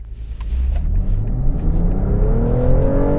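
A 2024 BMW X5 xDrive50e plug-in hybrid SUV accelerates hard, its engine note rising in a loud, continuous roar with a deep rumble that climbs steadily in pitch through a smooth gear change.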